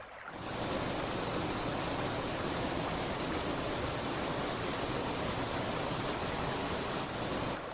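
Steady, dense roar of falling water, loud and continuous throughout, with no voices or breaks.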